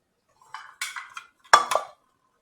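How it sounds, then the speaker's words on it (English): A sieve of all-purpose flour for a Jamaican black rum cake is shaken and tapped over a bowl: five or six short, close clattering metallic bursts in two clusters, alone and without talk. "It is important to sieve your flour as well."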